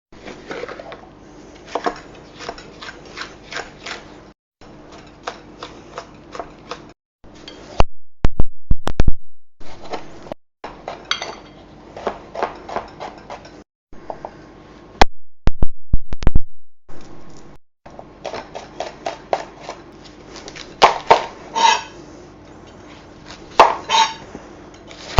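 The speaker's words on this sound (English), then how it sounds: "So a little bit of chopping to do now." A knife chops fennel and garlic on a board in a home kitchen, giving irregular bursts of close, crisp taps with short pauses between them.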